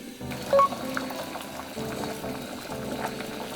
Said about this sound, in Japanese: 沸騰したらここに冷たい水を1カップ入れます。